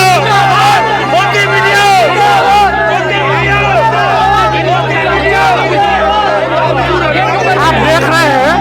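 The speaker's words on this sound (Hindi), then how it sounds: "अब जाकर के लोग मोदी मीडिया मुर्दाबाद मुर्दाबाद का नारा लगाते हैं" Crowd at a wrestlers' protest chanting slogans against the media, a dense, continuous hubbub of many overlapping voices with steady low traffic rumble beneath, loud and unbroken throughout.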